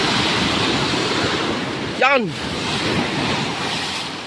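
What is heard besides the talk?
big ocean waves crashing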